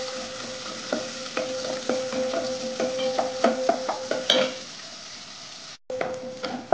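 Onion frying in a hot pan for prawn pundi, a close sizzle with repeated clinks and scrapes of a spatula against the metal pan, a short gap near the end before the sizzling returns.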